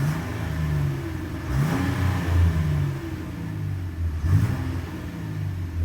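A 2022 Nissan Frontier SV pickup truck's engine idles with a deep, steady rumble and is revved twice, each blip swelling and falling away, loud and close with no talking.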